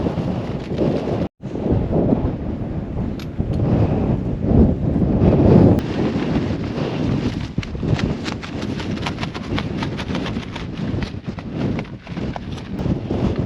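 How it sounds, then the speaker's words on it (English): Strong, ferocious wind buffets the microphone on an exposed hilltop, a loud continuous roar with heavy low rumbling gusts and no speech throughout. "the wind is pretty ferocious up here"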